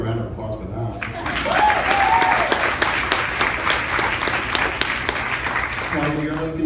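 Audience applause at an EW PopFest panel with the Grey's Anatomy cast, a full room clapping steadily for several seconds with a few voices and cheers mixed in before talk resumes.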